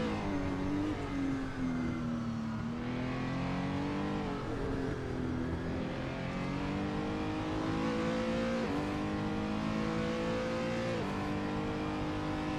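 A race car engine in a sim racing game revs and shifts up through the gears, a continuous whining drone that climbs in pitch, drops at each shift, then climbs again, steady and fairly loud.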